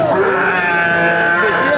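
A weaned crossbred calf gives a long, wavering bawl that fills the whole moment, loud and close, with no other sound standing out.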